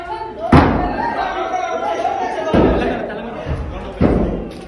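Heavy thuds and slams from a door being forced during an attack on a news office in Jubilee Hills, three loud booming impacts spaced a couple of seconds apart over continuous crowd commotion and shouting.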